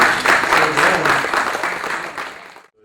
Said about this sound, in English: We need a little round of applause for Philip here.